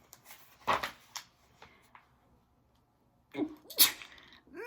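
A sharp, sudden sneeze bursts out nearby, followed by a quieter pause and then another forceful sneeze near the end.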